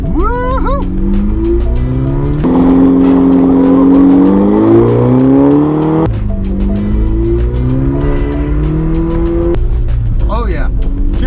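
A front-wheel-drive Mini drifting and doing donuts in snow, its engine revving loudly and rising and falling in pitch through long slides, up close, with people shouting and talking over it.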